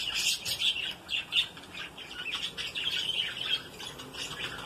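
Several budgerigar pairs with their chicks chatter nearby in rapid high chirps and squawks, a busy overlapping twitter that barely pauses from start to finish.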